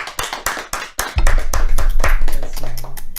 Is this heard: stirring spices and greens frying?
no